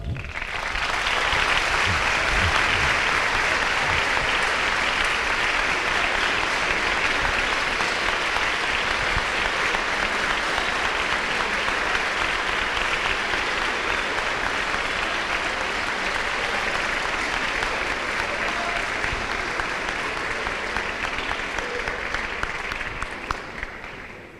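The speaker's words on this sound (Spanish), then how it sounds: "recibamos con un fuerte aplauso" Audience at an open economics talk gives a long, steady round of strong applause, dense and unbroken for over twenty seconds before fading at the very end.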